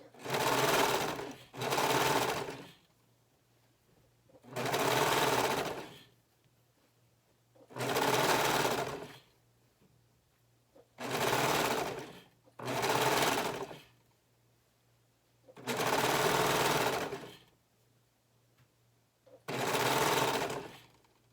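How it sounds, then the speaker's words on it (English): A sewing machine stitches one edge of a knit neckband down to a garment at the shoulder seam, running in eight short bursts of about a second each, separated by silent pauses, close and clear with no talking. "We're going to just sew one edge down on the neckband."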